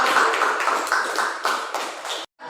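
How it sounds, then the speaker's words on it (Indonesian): Group applause at a school coaching and supervision presentation, a crowd clapping steadily and fairly close for about two seconds before cutting off abruptly. "beri tepuk tangan untuk"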